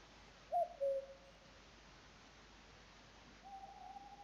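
A golden bird in the Smeshariki Shararam video game hoots twice in quick succession, then gives a longer, steady hoot after a pause, clear against a quiet background with no talking.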